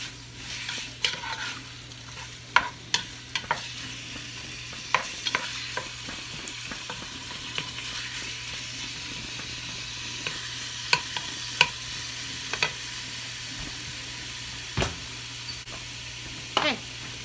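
Pork meat sizzling in a hot pan with the heat turned up, a steady low frying hiss broken by scattered clicks and stirring scrapes, close and moderately quiet, with no talk.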